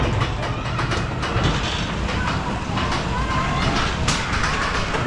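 A continuous rumbling clatter of a roller coaster train rolling along its track at Taunus Wunderland, steady and fairly loud, with faint voices mixed in the background.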